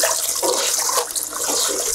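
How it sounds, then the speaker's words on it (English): Fibres, naturally dyed dark with iron, are rinsed in water, giving a brief, close run of splashing and swishing like a running tap over a sink. "I'm going to take my fibres and give them a little rinse, just a quick rinse."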